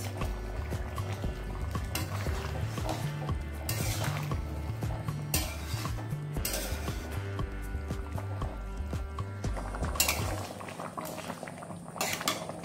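A pot of yam curry simmers as rohu or katla fish pieces go in, with steady bubbling, metal utensil clinks and scrapes, and occasional louder knocks against the pot.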